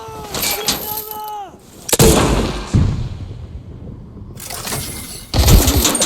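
Gunfire in the video game Arena Breakout, sharp loud shots with long echoing tails and a short gap of near silence between bursts, heard close with no talk over it.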